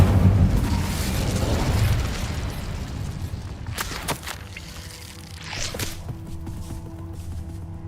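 Casting the Incendio fire spell in Hogwarts Legacy unleashes a loud roaring burst of flame that fades, followed by a few sharp whooshing cracks and scattered lighter effects.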